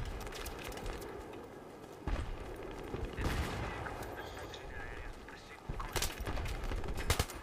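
Gunfire in Battlefield 3 on an icy tank map, irregular bursts and single shots, some near and some distant, mixed with game noise and players' voices.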